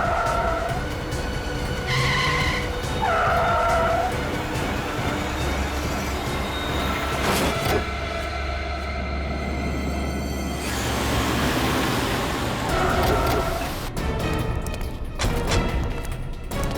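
A car driven recklessly by thugs, tires screeching and skidding in long squeals amid a loud rushing engine and road noise, with tense music.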